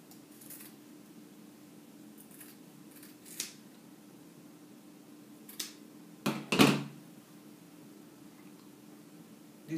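Scissors trimming fabric for a kimono jacket, a few faint, sparse snips, with a couple of sharper, closer cuts near the end against a quiet background.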